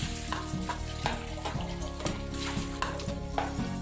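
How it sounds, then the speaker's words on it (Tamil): Boiled potatoes mashed and sautéed with mixed vegetables in a pan for a homemade veggie burger patty, giving a steady close sizzle of frying with repeated scraping and stirring strokes of a spoon against the pan. "உருளைக்கிழங்கு இந்த காயோட நல்லா சேர்த்து வதக்கிக்கலாம்."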